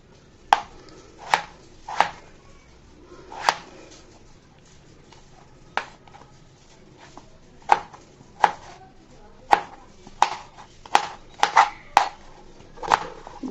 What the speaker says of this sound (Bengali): সুন্দর করে আলুগুলোকে আমি কেটে নিচ্ছি।